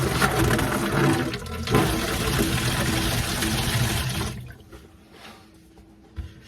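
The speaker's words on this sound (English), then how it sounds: "right now I'm going to turn the water on and flush that system." Tap water gushing at full flow through a newly installed Danze Smarttouch kitchen faucet to clear debris, a steady loud rush for about four seconds before it cuts off to quiet dripping.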